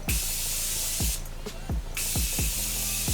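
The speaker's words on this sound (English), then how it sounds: "I'm gonna set everything with the Morphe setting spray." A fine aerosol spray of Morphe makeup setting spray hisses in a few quick bursts, one longer mist in the middle, over soft repeated tapping sounds.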